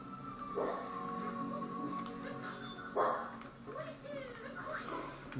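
A pet dog barks and yips a few times indoors, short bursts close by, mixed with whimper-like sounds and a person talking over it.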